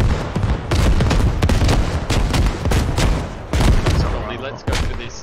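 Rapid bursts of rifle and machine-gun fire with heavy booms in the video game Squad on the Al Basrah map, loud and close, rattling in uneven volleys while players talk.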